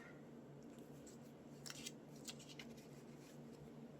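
Scissors cut paper for a crossword puzzle collage, giving a few quiet, close snips in short clusters over a low, hushed room background.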